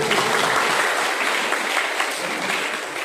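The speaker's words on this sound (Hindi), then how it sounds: "तालियां तो बजा दो एक बार" A crowd applauds at a birthday celebration at a milk products plant, dense and loud clapping that stays steady for about three seconds, with no voices over it.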